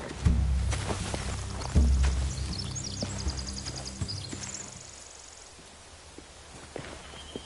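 Horses walking in The Walking Dead video game, a few heavy hoof clip-clops and thuds close by at the start, then slower, fainter steps fading under quiet ambience.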